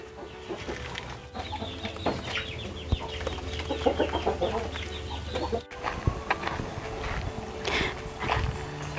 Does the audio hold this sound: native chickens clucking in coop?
yes